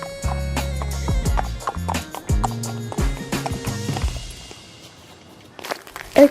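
A ridden horse clip-clops at a barn with sharp, regular hoof strikes in uneven bursts over a steady droning tone, then eases to quieter scuffing before a loud thump at the end.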